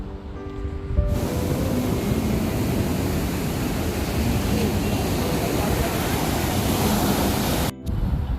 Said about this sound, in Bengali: সমুদ্রের এই আওয়াজটাও যেন একটা আলাদা শান্তি এনে দেয় মনে।